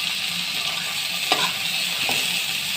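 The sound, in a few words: sautéing fresh mushrooms in a pan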